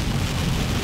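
Steady rain from Tropical Storm Fay hitting a moving car while driving onto the Eau Gallie Causeway in Melbourne, Florida: a dense, constant wash of drumming and road noise, loud and unbroken, with no talk.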